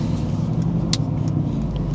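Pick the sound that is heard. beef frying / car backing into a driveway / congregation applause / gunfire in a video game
car backing into a driveway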